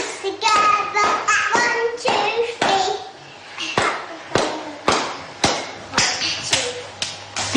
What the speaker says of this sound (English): Clap your hands together